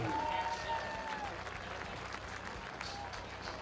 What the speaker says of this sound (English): How about a nice round of applause for Greg Stanley?